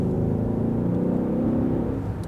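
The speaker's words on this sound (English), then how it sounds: "if you hit the gas pedal, you start" A 2014 Mercedes-Benz S63 AMG 4MATIC (W222) in sport mode accelerates, its engine and exhaust giving a steady, close, deep rumbling drone that holds throughout with no talk over it.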